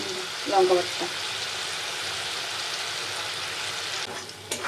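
Spice paste of ground chilli mixed with water frying in hot oil for a chicken dish, a steady broadband sizzle throughout, with a brief louder splatter near the start as the paste meets the oil and a short spit at the end.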